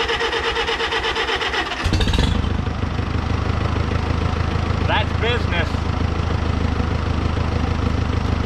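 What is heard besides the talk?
Farmall tractor engine starting and idling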